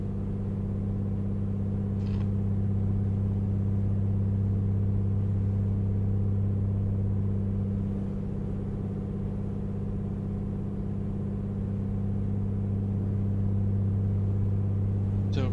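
A light aircraft engine drones steadily and loudly, a constant low propeller hum with strong even tones and no clear rise in pitch across the stretch.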